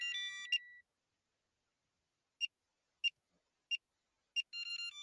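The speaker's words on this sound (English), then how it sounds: "you'll notice it makes a noise and the pin pad stays lit up" On a pool car's keypad, a wrong PIN code sets off a tone burst followed by four sparse, short electronic beeps about half a second apart, then another tone burst, close and clean with no talking.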